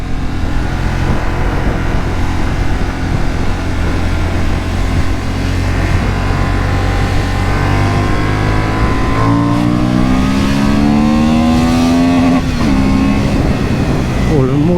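A 2023 Honda Hornet 750 motorcycle engine drones loudly and steadily, then revs climb and dip in rising sweeps toward the end, close and continuous throughout.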